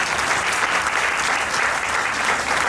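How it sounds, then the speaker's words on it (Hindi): Audience applause after a short stage play, a dense, steady wash of clapping from a seated crowd that holds evenly loud throughout with no voices over it. "अगर अच्छी लगी हो तो तालियों से हम लोगों को बता सकते हैं।"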